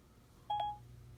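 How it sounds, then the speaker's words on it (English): An iPad gives a single short electronic beep, a clean tone of about a quarter second, when its button is held, heard alone over quiet room hiss. "Now if I hold the button. Yeah, see the iPad beeps."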